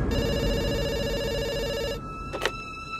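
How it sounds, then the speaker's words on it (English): A telephone rings in an old-style bell pattern, loud and steady for about two seconds before cutting off, followed by a short click and rustle as the receiver is picked up. "when the phone rang"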